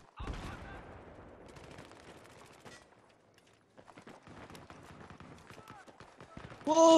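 Gunfire in Battlefield 3 team deathmatch: rapid bursts of automatic weapon shots rattle throughout, fairly close, while a player talks over them, ending in a brief loud game sound.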